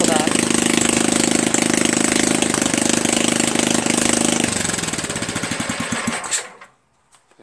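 A 6HP Tecumseh engine on a Jacobsen Imperial 26 two-stage snow blower, running with its choke wide open and no muffler, roars loud and close, its beat turning uneven and choppy before it dies out into silence.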